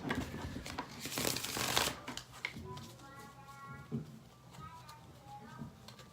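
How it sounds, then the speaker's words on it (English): Tarot cards are shuffled on a surface close by, a burst of riffling and slapping in the first two seconds followed by lighter card handling, with quiet background music and a voice speaking. "I can shuffle these on here."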